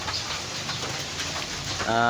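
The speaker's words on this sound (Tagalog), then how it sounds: "di pa rin tumila yung ulan simula nung Sabado" Steady, dense rain hisses close by, falling without a break since Saturday in a rural Philippine setting; near the end a brief tonal call or voice rises over the constant downpour.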